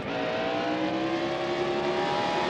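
Race car engine in the NASCAR Heat Evolution video game, a steady sustained high-revving drone with a constant whine, held at even loudness throughout.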